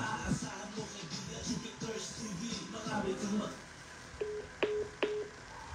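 A telephone number being dialed, a few short, clear keypad tones near the end, following talk in the first part.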